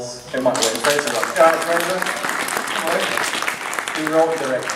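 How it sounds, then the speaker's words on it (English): Audience applause at a Sci Fi Wales 2015 film screening panel, sustained steady clapping throughout with people talking over it. "Round of applause."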